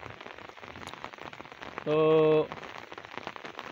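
Heavy monsoon rain pours steadily over a flooded paddy field in Punjab, a dense close hiss, broken briefly by a loud sustained tonal sound in the middle, with a voice faintly present.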